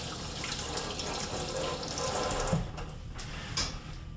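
Steady running water pours into a bathroom sink, a continuous, fairly loud hiss and splash that holds for several seconds and then thins out near the end with a few brief splashes.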